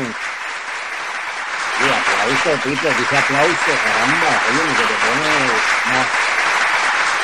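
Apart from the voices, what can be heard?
sports-style applause from an audience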